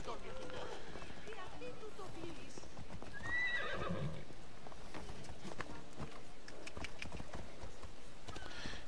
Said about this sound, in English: Hold down the X key and it summons your horse.